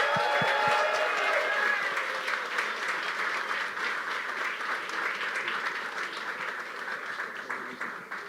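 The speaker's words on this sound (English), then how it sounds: "Please, everyone, with a huge round of applause," Audience at an annual benefit dinner for a South Bronx youth soccer organization breaks into sustained applause to welcome a speaker, dense steady clapping that begins full and slowly tapers, with a few voices early on.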